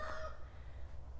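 A grey, brown and mottled rooster crows on an off-grid Australian homestead, a short bright call at the very start that fades quickly into a low rumbling background.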